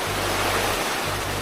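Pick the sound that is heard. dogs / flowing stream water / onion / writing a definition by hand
flowing stream water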